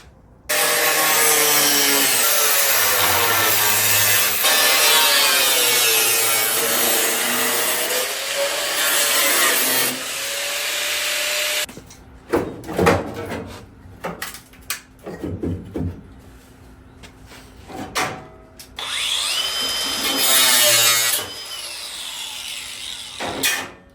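A power tool cuts through the metal of a C20 pickup truck's cab, a long, loud grinding rasp that breaks into short bursts and stops before a final sustained cut, with no talk.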